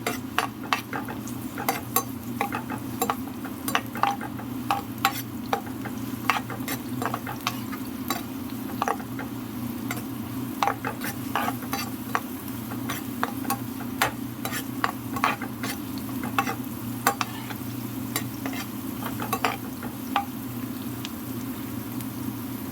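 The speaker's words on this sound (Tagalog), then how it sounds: "Lagay ulit tayo ng onion sa ating pan." Onion frying in a pan for a shrimp and potato curry, a soft continuous sizzle with frequent light clicks and scrapes of a utensil stirring, close by and without talk.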